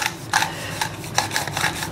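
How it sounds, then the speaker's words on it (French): Whole nutmeg is grated over a dish in a restaurant kitchen, giving a series of short, close, dry rasping strokes in an uneven rhythm. "Une petite tombée de muscade."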